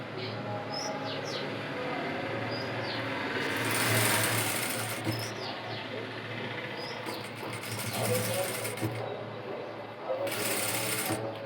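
A domestic sewing machine stitches a narrow rolled quarter-inch hem around a garment armhole. Its steady, close mechanical whirr runs unbroken throughout, swelling slightly louder in places, with faint high chirps in the background.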